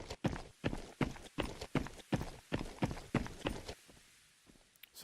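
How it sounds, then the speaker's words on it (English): Scav footsteps walking on a floor above the player in a video game: a steady run of about a dozen heavy, muffled thuds at an even pace, faint, then trailing off with no talking. "So listening now, scav footsteps above me."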